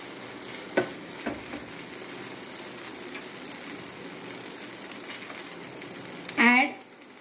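Prawns frying in a pan make a steady soft sizzle, with a few light clicks of stirring and a brief louder scrape near the end, close and quiet.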